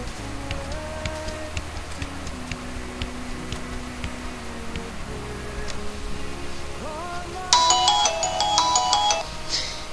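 A video game sounds a signal that time is up. Quiet ticking and tonal game sounds lead into a bright, loud, ringing tone with stacked harmonics near the end.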